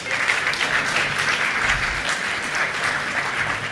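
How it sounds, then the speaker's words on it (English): Conference audience applauding a panel at an investment launch event in Philadelphia, a loud, dense and sustained clapping from a large crowd, steady from start to finish. "Let's give the panel another round of applause."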